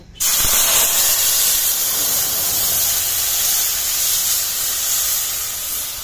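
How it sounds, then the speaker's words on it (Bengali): Water poured onto a spice mix in a hot pan bursts into a loud, sudden hiss of steam that holds as a steady, rushing sizzle. "মশলা গুলে জলটা দিয়ে দেবো"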